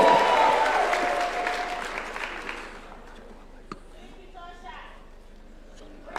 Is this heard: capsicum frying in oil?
no